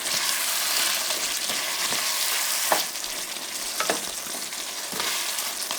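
Kerala-style chicken roast masala frying in a pan: a loud, continuous sizzle with occasional spoon scrapes and knocks as the mixture is stirred, close by and without talking.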